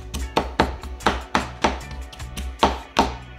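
Ginger is mashed with the back of a knife on a board, a series of about ten sharp, loud thuds in a steady, even rhythm.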